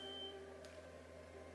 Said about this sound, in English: sorry about that beeping, that is like the nurse buzzer,